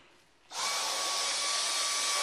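A Dyson Digital Slim DC35 handheld cord-free vacuum, its power head fitted straight onto the handheld unit for cleaning stairs, switches on after a brief quiet moment and runs with a loud, steady, high-pitched motor whine.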